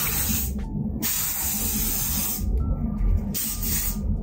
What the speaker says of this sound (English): I am gonna coat with the Oribe hairspray just so that everything stays in place.